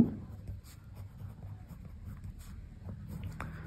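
A pen writes on paper during a maths lesson: soft, close scratching strokes in short bursts over a quiet room.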